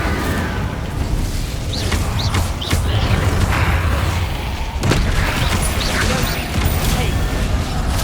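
Spellcasting in Hogwarts Legacy, with Incendio fire bursts thrown at Inferi, comes as repeated whooshing blasts and booms amid dense combat noise, one sharp hit near the middle, under a loud continuous game soundscape.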